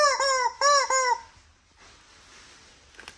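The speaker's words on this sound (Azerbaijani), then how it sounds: "Xoruz oyuncağıdır." A silicone rooster toy gives three loud, close crowing squawks in quick succession. Near-silence and a faint rustle follow.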